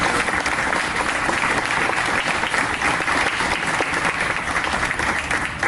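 Loud, dense audience applause fills the room steadily throughout, a sustained round of clapping for an honoree at a Kentucky Bourbon Trail welcome center event.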